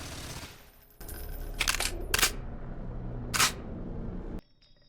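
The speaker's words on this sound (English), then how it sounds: "Your player character just hits some sort of button, then puts in what I assume is a fresh, capsule-shaped magazine in the top rear end of the gun" A sci-fi video game gun is reloaded: a button click, then sharp metallic clacks as a capsule-shaped magazine slots into the top rear, the quick mechanical snaps set over a low steady game hum.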